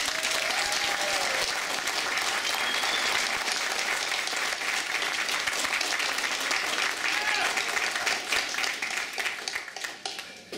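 A large audience at a 2012 City of Heroes player summit keynote breaks into sustained, dense applause that fills the hall and only begins to thin at the very end, with a few voices under it.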